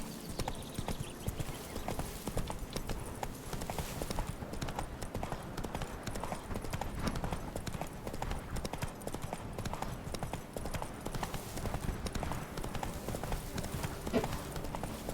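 A horse gallops in The Witcher 3 game, its hooves beating in a fast, continuous clip-clop rhythm throughout, with a faint voice now and then.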